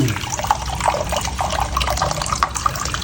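Fresh coconut water pours into a glass in a steady, close liquid splash and trickle, unbroken for a few seconds.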